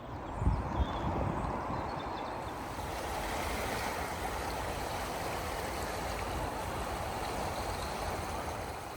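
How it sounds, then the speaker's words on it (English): Rapids on a full, high river rush in a steady, dense roar that fills the whole span without pause, heard from the bank nearby. "Look at those rapids."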